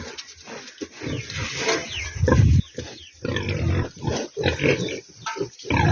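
Piglets feeding in a pen at lunchtime, with dense close grunting, squealing and snuffling that swells and dips in bursts, loud and continuous across the whole stretch.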